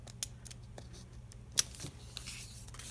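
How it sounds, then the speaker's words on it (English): Scissors making a straight cut through paper for a lap book, with quiet, close snips and a soft rustle of the sheet over a few seconds. "I'm just going to make a straight cut outside of the line"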